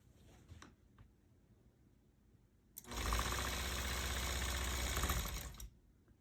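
A long-arm quilting machine stitches a disappearing 9 patch quilt, running in a fast, even mechanical chatter for about three seconds after quieter handling noises.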